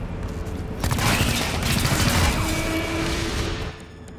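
A loud burst of gunfire in the turn-based game XCOM Chimera Squad: a sharp crack followed by a dense, rattling volley of shots and impacts that rings out for a few seconds before cutting off.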